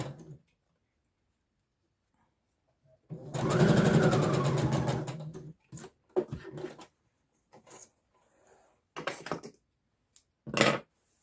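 A sewing machine stitches bias binding onto a satin lining in a close, rapid burst of mechanical whirring, then stops; short handling clicks and fabric rustles follow with brief pauses between them.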